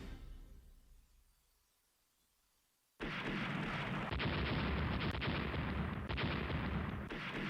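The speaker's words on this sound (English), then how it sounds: "Now they're just, like, ripping it to shreds with torpedoes." Heavy naval gunfire and torpedo hits in the Rule The Waves strategy game erupt abruptly after a near-silent stretch, a dense, loud, continuous roar of booms and blasts with sharp cracks standing out on top.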